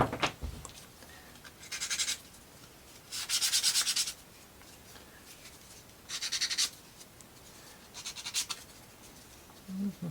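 Wooden UGEARS marble run parts are sanded by hand in several short bursts of rough rubbing, separated by quiet pauses.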